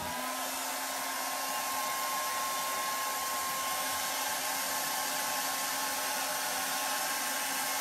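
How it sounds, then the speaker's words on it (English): A hair dryer blows steadily on a thin layer of stamped and stenciled paint, a constant close whirring hum with a faint tonal whine and no talking. "I've got a hairdryer,"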